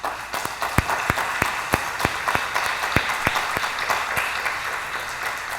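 A church congregation applauds with dense, steady clapping that has a few sharper individual claps standing out, filling the room evenly for several seconds.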